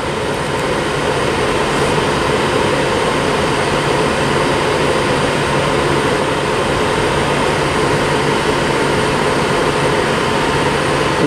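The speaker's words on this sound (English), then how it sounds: "It's also about to depart, I believe, is a 10:08 Avanti West Coast service to London Euston via Birmingham New Street." An Avanti West Coast train departs Carlisle station, a loud, continuous broadband rumble and roar that stays steady and close throughout.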